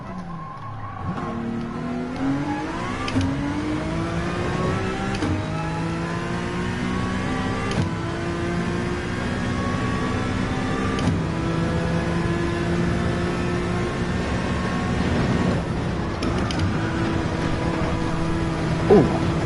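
Race car engine on a lap of Spa-Francorchamps in Gran Turismo 7, a loud, continuous high-revving whine rising and dropping through repeated gear changes, with faint tyre squeal, no talk.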